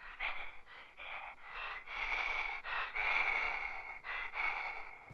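Heavy, ragged breathing over a CB radio in the 1977 film The Hills Have Eyes, a series of slow rasping inhales and exhales, close and filtered, with no talk.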